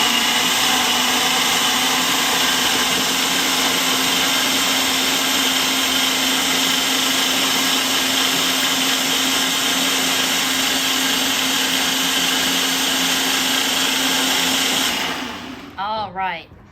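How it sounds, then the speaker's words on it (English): A Ninja blender whirs loudly and steadily while blending a kale smoothie, a constant close motor roar for about fifteen seconds before winding down abruptly at the end. "So Elizabeth, go ahead and start the blending."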